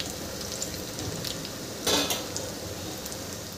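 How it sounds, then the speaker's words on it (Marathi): Coriander vadi fry in oil over medium heat with a soft, continuous sizzle, punctuated by light clinks of a utensil turning the pieces and a brief louder scrape; no talking. "मी याला छान खरपूस तळून घेते. याला असं अलटी-पलटी करून आपल्याला छान तळून घ्यायचे आहे."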